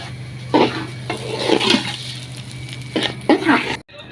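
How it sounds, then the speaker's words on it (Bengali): Pulao rice with spices frying in oil, heard as close clattering stirs and scrapes of a utensil against the pot in short bursts over a light sizzle and a low steady hum, ending abruptly. "পোলাওর চালগুলা দিয়েছি তেলে ভাজতাছি তেলে মশলা"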